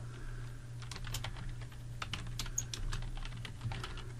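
Typing on a computer keyboard, with a steady run of quick, light key clicks at close range over a low constant hum, and no voices.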